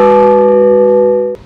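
One stroke of the small blagovest church bell, weighing 450 kilograms and used for weekday services, rings out loud and close, its steady humming tones sustaining for over a second before being cut off.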